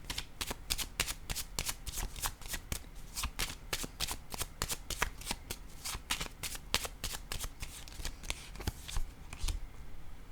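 Tarot or oracle cards being shuffled and handled for a reading, a rapid run of crisp flicks and riffles close by, continuous throughout with no talk.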